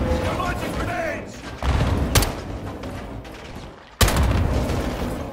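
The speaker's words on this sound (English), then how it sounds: "Incoming! Take cover! They're launching grenades!" Grenade blasts and gunfire in the video game Modern Warfare 2, loud sharp booms and bursts of shots over rumbling battle noise, with shouting voices among them.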